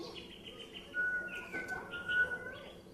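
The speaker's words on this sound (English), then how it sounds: "After the storm, we have the birds chirping." Faint bird chirps and a thin whistling call rise out of a quiet, murmuring background.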